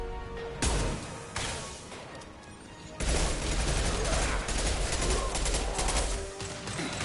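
Gunfire from the video game Mass Effect 2, several loud blasts and dense shooting that swells into a sustained barrage over the last few seconds, with no talking.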